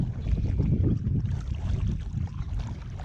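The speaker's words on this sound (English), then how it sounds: "Paddling home into the wind." A boat is paddled home into the wind in the Los Padres National Forest, with low, rumbling wind buffeting and irregular water splashes, close and moderately loud, with no voices.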